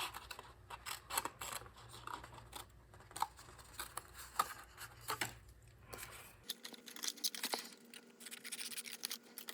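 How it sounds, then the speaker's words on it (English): Scissors snip paper tabs off at an angle while a pillow box gift holder is made, giving a series of close, crisp cuts with small rustles between them and no talking. "we're going to cut them off at an angle to reduce the bulk."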